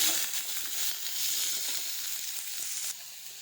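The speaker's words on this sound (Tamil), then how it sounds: "அப்போ வெங்காயம் சீக்கிரமாக வதங்கி வந்துடும்." Steady, close sizzling of onions frying in hot oil, with a few faint stirring scrapes, continuous throughout.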